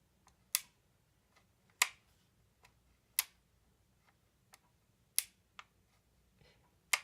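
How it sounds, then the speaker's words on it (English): Crisp, faint mechanical clicks of an HK MP5 airsoft gun's selective fire switch at irregular intervals, about a dozen, some sharper than others, over a quiet background hum. "this is the sound of the selective fire switch clicking on this one right here"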